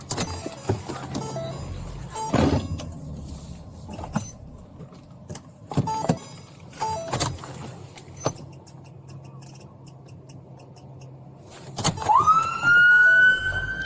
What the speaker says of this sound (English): You're activating your siren.